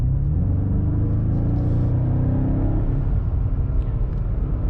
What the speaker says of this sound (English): The car picks up speed so fast and so like effortless